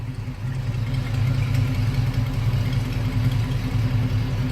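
A 1970 Chevrolet Nova's original 350 V8 idles with a deep, steady rumble and a low, even throb, close and loud, with no one talking.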